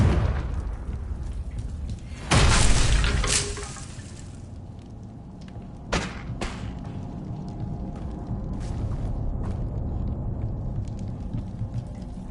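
A Confringo fire-spell blast in Hogwarts Legacy bursts loudly near the start and rumbles briefly before fading, followed by a sharper secondary crack and a low, steady hiss of ambient noise beneath the scene.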